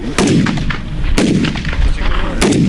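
Three sharp, loud shots from a machine gun during military training, spaced about a second apart, each with a booming echo over steady rumbling background noise.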